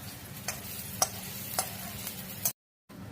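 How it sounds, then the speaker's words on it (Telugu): Egg rice frying and being stirred in a pan, a steady close sizzle with regular spoon scrapes and clicks about every half second, then a brief dropout near the end. "మంచిగా ఫ్రై చేసుకోవాలి. బ్రౌనిష్ కలర్ వచ్చేదాకా వేసుకోవాలి."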